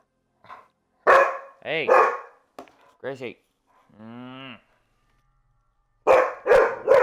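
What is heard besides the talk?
dog barking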